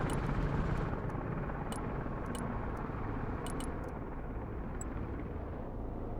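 Heavy Mi-26 helicopters arrive in the Broken Arrow war game with a loud, steady rotor and engine roar throughout, joined by a few brief sharp clicks.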